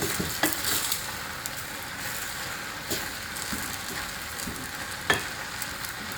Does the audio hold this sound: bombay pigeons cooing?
no